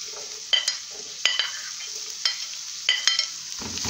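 Bell pepper being stirred in a pan during sautéing for a quick salad, with soft sizzling under a series of light, clinking scrapes of a utensil at irregular intervals.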